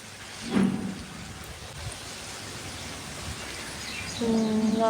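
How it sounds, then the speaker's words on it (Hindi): Rain falls at night as a soft, steady hiss, with a couple of brief tonal calls or voices rising briefly above it. "बारिश हो रही है दोस्तों, दिखाऊँ मैं आप।"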